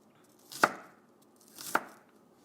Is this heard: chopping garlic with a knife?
yes